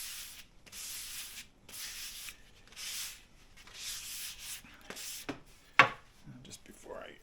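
Diamond willow walking stick sanded by hand, heard as repeated long rasping strokes of about a second each, close and steady, with a sharp tap near the end.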